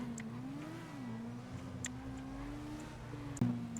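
A Kawasaki Ninja motorcycle engine heard in a video game, a steady moderate drone with slight pitch rises and a brief sharp knock near the end.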